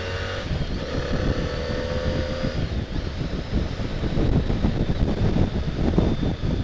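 Strong wind buffets the microphone with a continuous, low, rumbling roar that swells and gusts, loud and close throughout.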